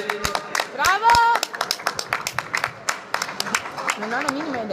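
Spectators clap after the final round of an amateur boxing bout, scattered sharp hand claps mixed with talking and a shout nearby.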